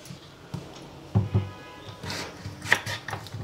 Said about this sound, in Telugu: కొంచెం పెద్ద ముక్కలే కోస్తాను నేను